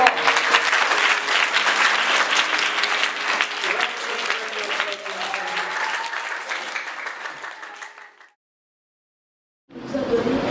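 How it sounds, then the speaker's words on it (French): An audience at a church anniversary ceremony claps warmly, dense applause that slowly fades with a sustained tone beneath it, then breaks off into silence before sound returns. "Merci beaucoup. Applaudissons très fort."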